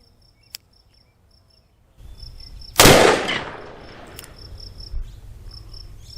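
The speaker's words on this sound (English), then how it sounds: "Let's fire these last 4" A Ruger Alaskan .454 revolver fired outdoors across a chronograph: one very loud, sharp shot followed by a long echoing decay, with crickets chirping steadily in the background before and after.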